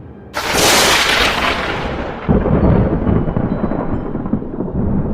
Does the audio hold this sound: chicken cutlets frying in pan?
no